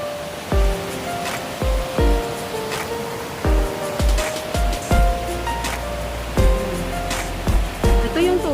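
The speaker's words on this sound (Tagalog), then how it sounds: "Ito yung tubig na pababa." Water rushing downstream toward Shifen waterfall, a steady broadband roar with repeated sharp splashes and knocks over it, close and fairly loud.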